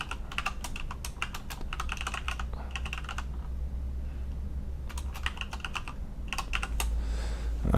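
Text being typed on a computer keyboard for a Photoshop comic book cover, heard as several quick bursts of clicking keys separated by short pauses, close and fairly quiet over a low background hum.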